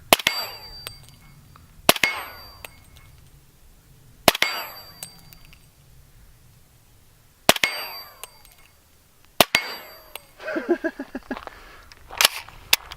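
Heavy sniper rifle rounds striking a stainless steel plate outdoors: five sharp, loud cracks with metallic ringing decay, spaced a few seconds apart, plus a brief burst of softer clatter near the end.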